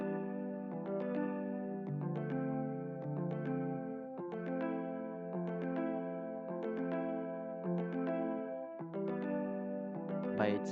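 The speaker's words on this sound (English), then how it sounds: "So by doing this, I'm able to add a guitar on top. It's like a top line. So it's a jazz guitar." Jazz guitar top line from an Afro Beats track, clean plucked notes and chords in a bouncy, syncopated rhythm over a steady lower part, heard alone without talk.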